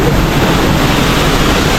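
A waterfall near Lima pours down violently, heard as a loud, dense, unbroken roar of crashing water with wind buffeting the microphone close by.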